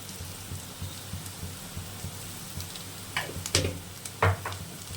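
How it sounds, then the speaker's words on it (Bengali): Sliced onion frying lightly in oil in a pan, a soft steady sizzle with a few sharper crackles and stirring clicks near the end. "পেঁয়াজটা হালকা ভাজা হয়ে গেছে"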